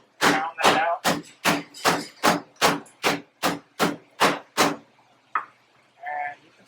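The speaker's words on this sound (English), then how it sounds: "With each cutlet, I'm just going to pound that out." Pork cutlets being pounded flat in a kitchen: about a dozen loud, evenly spaced thuds in a steady rhythm, close up, followed by a couple of softer knocks.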